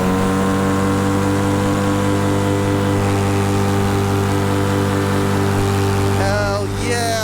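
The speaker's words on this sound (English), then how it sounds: "Let's do a little full throttle climb." A paramotor engine runs at full throttle during a climb, giving a loud, steady, droning buzz that holds close and constant, with wind rush and a brief voice near the end.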